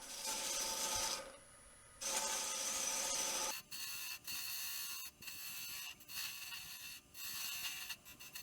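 Wood scraping and rasping on a lathe as the tenon is cut off a maple burl platter held in a jam chuck: a long abrasive cut, a brief pause, then a series of short rhythmic bursts, faint and close with no talking.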